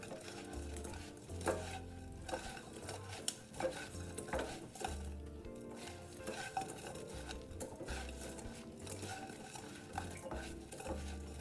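Taro cubes tossed with a cereal coating in a wok, a spatula scraping and clanking steadily against the metal in a continuous stirring rhythm with a light sizzle underneath, close and moderately loud, with no voices.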